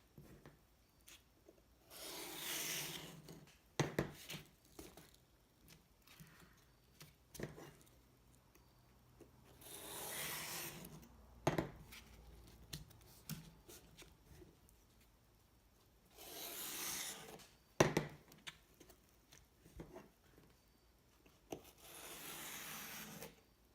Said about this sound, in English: Don't press too hard because you'll just cut your sandpaper.